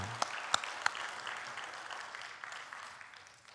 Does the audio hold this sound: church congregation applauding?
yes